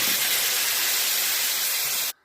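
Water poured into a hot pan of frying homemade mango pickle sets off a loud, steady steam hiss that cuts off abruptly.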